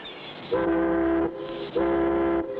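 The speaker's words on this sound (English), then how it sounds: "That's the first boat whistle that's sounded in 3 weeks." Two long, steady boat whistle blasts sound one after the other, each lasting under a second with a short gap between, fairly close and clear, in an animated cartoon.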